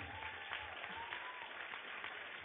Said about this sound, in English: So big round of applause for Srilekha.